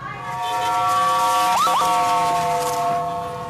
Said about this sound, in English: The stream of sirens from emergency services was constant.